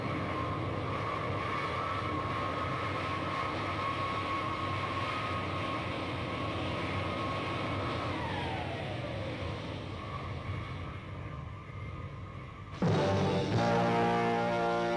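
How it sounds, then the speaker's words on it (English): An airplane lands in a 1979 film: a steady engine roar with a whine that slides downward midway, then an abrupt cut to a louder, different tone near the end, with no talk. "Did they need this entire airplane landing sequence?"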